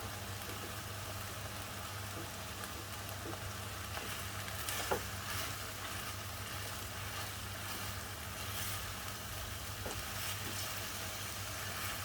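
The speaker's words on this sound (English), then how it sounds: "Give it a good stir, incorporate it in the chili sambal." Chili sambal stirred and frying in a pan, a soft steady sizzle with occasional faint scrapes and clicks of the utensil, quiet and close with no talk.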